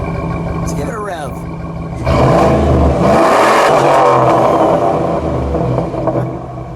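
A yellow 2004 Chevrolet SSR pickup idles, then its engine is revved hard in a loud roaring burst that swells and slowly falls back toward idle.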